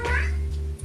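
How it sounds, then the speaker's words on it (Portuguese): A pet cat meows once, close and fairly loud, a drawn-out call with a low background hum underneath. "esse é meu gato"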